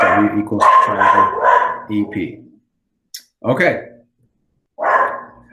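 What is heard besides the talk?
dog barking in the background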